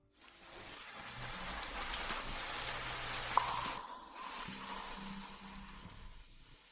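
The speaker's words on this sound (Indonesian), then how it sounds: "Di luar hujan." Rain falling outside, a steady soft hiss that holds for most of the clip and eases off near the end, with no voices.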